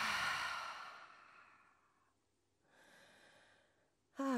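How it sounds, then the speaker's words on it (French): Yoga breathing: long, hushed exhales pushed through a vibrating throat, one slowly fading breath, a pause, then a softer second exhale before a voice starts to speak. "faire vibrer la gorge en expirant, buée"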